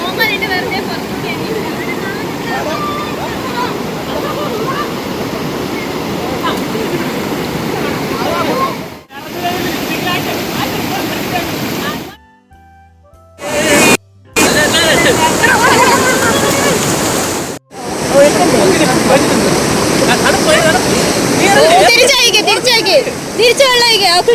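The Shiv Khola waterfall roars in a loud, dense, continuous wash that drops out briefly a few times, with voices faintly mixed in.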